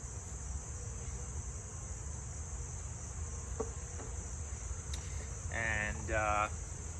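Honeybees buzz as they are shaken off a hive frame. A steady, faint insect drone fills the background, with a few louder buzzy bursts near the end.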